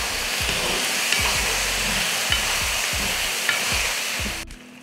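A spoon stirs cauliflower curry with salt in a sizzling frying pan, giving regular scraping strokes about every half second over a constant close fry hiss that cuts off sharply at the end.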